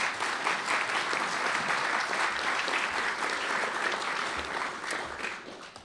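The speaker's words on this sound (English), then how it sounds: "Let's give them a round of applause" Audience at a National Press Club event applauding steadily, dense clapping from many hands holding level before tapering slightly at the end.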